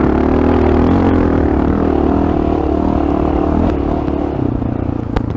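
Honda XR650L dual-sport motorcycle in third gear ploughing through deep sand, its loud single-cylinder engine droning steadily and close, with a slight drop in pitch near the end.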